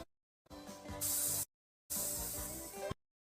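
Spray effect in a video game, two bursts of loud, steady hissing spray, each about a second long with a brief silence between them, set over electronic game tones.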